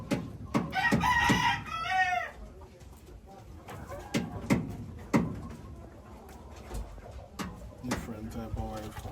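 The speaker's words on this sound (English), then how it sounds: "It's different type of white fowl." White fowl chickens in a Jamaican yard, a loud rooster crow early, then scattered clucks and calls near and far, with people talking nearby.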